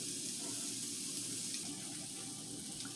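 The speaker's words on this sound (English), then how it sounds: "So I rinsed everything off" Tomatoes, red onion and cucumber being rinsed under a running kitchen faucet, a steady close rush of water splashing into the sink throughout, with no talking.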